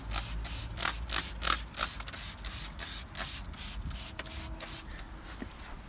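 Citrus cleaner sprayed onto a car tyre and into the wheel arch in repeated short bursts, a steady rhythm of hissy trigger-spray pulses close to the microphone.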